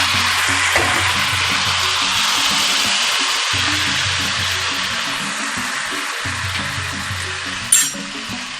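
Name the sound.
boiled vegetables frying in a wok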